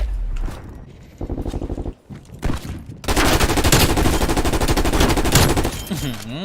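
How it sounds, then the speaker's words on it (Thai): A classic Galil rifle fires in Call of Duty Warzone: loud, close gunfire opens with short choppy bursts, pauses briefly, then breaks into a long sustained stream of rapid automatic shots. "เสียง ปืน เป็น ไง บ้างทุกคน ถูกใจไหม"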